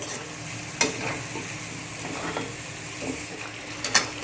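Chicken leg masala mixed with sour yogurt is stirred in a pan, a steady close sizzle with occasional sharp scrapes and taps of the spoon against the pan.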